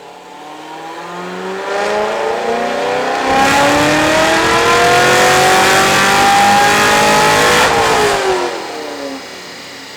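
Chevrolet Corvette C6 Z06, otherwise stock, with a Corsa exhaust revving hard on a dyno: a loud, close engine note climbing steadily in pitch for several seconds, then dropping off as the throttle closes.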